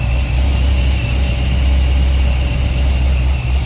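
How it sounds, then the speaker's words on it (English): A 2013 C6 Corvette 427 with a cam, exhaust flaps open and stock mufflers, idles steadily and loudly close by, a constant low rumble with a faint mechanical ticking. "So that does have the flaps open. Those are stock mufflers with our alpha cam."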